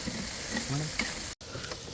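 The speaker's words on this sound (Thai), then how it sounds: "แล้วก็เอาไปลงกระทะได้เลยครับ" Battered boneless chicken fries in a pan of oil with a steady, close sizzle, broken by a few light clinks and stirring sounds.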